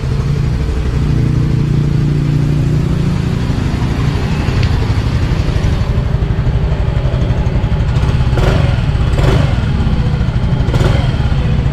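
A 2024 Yamaha Mio i 125 S scooter engine runs steadily up close, a low even putter with a few short rises in revs toward the end.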